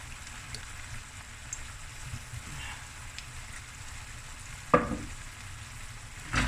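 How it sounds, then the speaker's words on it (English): Lamb frying in a pan with soy sauce and oyster sauce, a steady close sizzle with a brief louder hiss or scrape near the end, no talk. "Give it a nice fry up."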